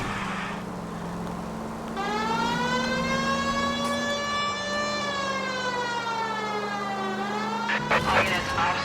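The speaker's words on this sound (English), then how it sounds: "At least if you put the siren on, it'll let people know what's happening before you hit them, Phelps." A police car siren in the video game LA Noire wails steadily with rising and falling pitch sweeps for several seconds over a low engine hum, loud and close, ending in a brief clatter.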